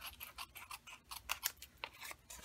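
Scissors trim cardstock for handmade Christmas gift card holders in a series of quiet, crisp snips and slicing strokes, close and soft, with no talking.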